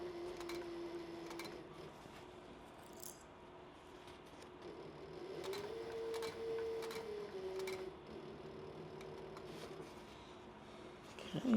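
A sewing machine with a piping foot stitches piping into a cross-body sling bag, a faint, steady mechanical whir with a soft periodic tick throughout, no voice.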